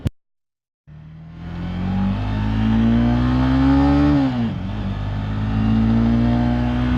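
A Honda CBR motorcycle pulls away in traffic after a brief silence, its engine note climbing steadily as it accelerates, easing off briefly at a shift, then droning on loud and close.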